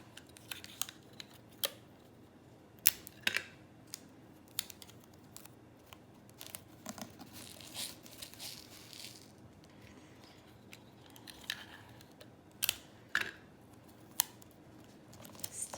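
Tape is pulled and wrapped around a rain stick tube in scattered, sharp crackles and rips, each short and close, separated by quiet gaps over a soft background hum.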